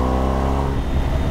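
A BMW GS motorcycle with a Jekill and Hyde Nomad 3-in-1 exhaust revs steadily with a deep harmonic note, the pitch shifting partway through as the throttle changes.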